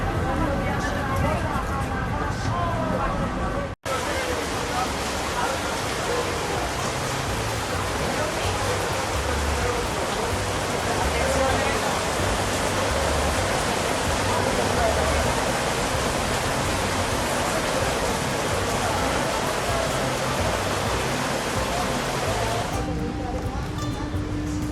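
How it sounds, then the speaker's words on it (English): Steady broadband hiss of rain falling on a street in Naples, Italy, continuous and close, filling the whole stretch after a brief cut near the start. "Well, it started to rain."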